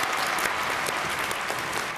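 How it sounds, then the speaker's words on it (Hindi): Dense studio audience applause on a Hindi family game show, steady and loud throughout with no voices over it. "जोरदार तालियां एवरीबॉडी"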